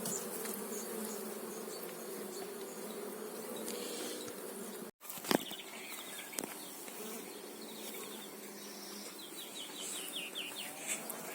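Honey bees hum in a steady, dense drone at an apiary while a colony is split into a new hive. A sharp knock and a few clicks of frame handling cut through the buzzing partway along.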